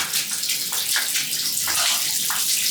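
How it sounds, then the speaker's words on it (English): Tap water runs into a bathtub as it fills, a close, steady splashing gush with small bubbling surges recurring throughout, no voices present. "the bath is ready. So let's put the bloody water on"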